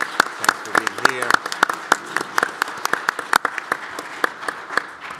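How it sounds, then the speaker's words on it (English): An audience at a nuclear energy conference session applauds its panel, with crisp, distinct claps in a loose rhythm that carry on steadily; a voice speaks briefly at the start. "Heartwarming applause for the panel."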